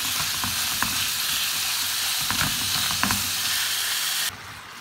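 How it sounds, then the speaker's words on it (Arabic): Minced meat fries in a pan on a gas stove with a continuous loud sizzle, punctuated by scattered stirring scrapes, the hiss cutting off abruptly near the end. "هلا بقلي اللحمة."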